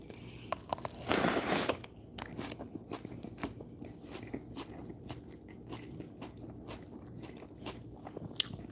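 Close, repeated crunching and chewing of Raisin Bran Crunch breakfast cereal, irregular bites and soft mouth sounds continuing steadily, with a brief louder rustle near the start.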